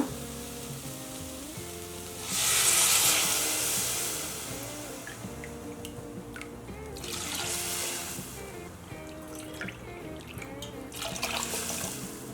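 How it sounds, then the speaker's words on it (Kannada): Water is poured into a hot cooking pot over a low gas flame, setting off a loud hissing burst that settles into softer bubbling and sizzling, with a second surge later. "ಈಗ ನೀರು ಹಾಕ್ಕೊಳ್ಳೋಣ."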